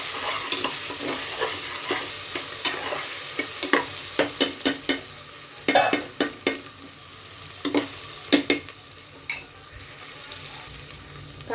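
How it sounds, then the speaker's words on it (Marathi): Onions sautéing with a crushed ginger, garlic and coriander paste for masale bhat, a steady sizzle under repeated sharp scrapes and taps of a spatula against the pan, irregular and close, with no talking. "हे छान परतून घेऊया आपण। आलं, लसूण आणि कोथिंबीरची पण जो ठेचा मी केला होता तो घालून घेते।"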